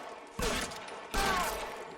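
Two loud bursts of gunfire in the L.A. Noire video game, each a sharp onset followed by a sustained rattling blast, coming close together over a short span.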